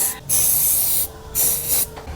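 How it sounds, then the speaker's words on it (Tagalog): Cleaner sprayed onto scooter CVT parts in three sharp aerosol bursts, each a bright hiss about half a second to three quarters of a second long, separated by short quiet gaps, close and loud. "Spray natin ng konti."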